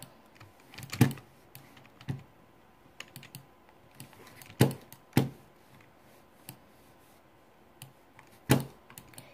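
Keystrokes on a PC computer keyboard during a game, coming in scattered bursts of sharp clicks with a few louder isolated hits and quieter tapping between, close and alone with no talk.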